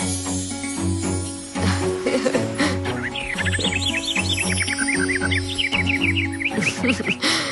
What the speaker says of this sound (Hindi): कितने दिनों बाद सतरंगी को फिर चहकते खेलते देख रहा हूँ।